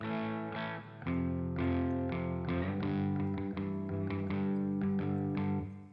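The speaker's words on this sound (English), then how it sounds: "the volume's actually rolled off a little bit to try to peel some of the distortion off" An electric guitar strums chords from a song with a mild, crunchy distortion, its gain softened by rolling back the guitar volume, ringing out at a steady pace and fairly close.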